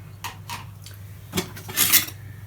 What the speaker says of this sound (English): So I'm just going to rough chop them.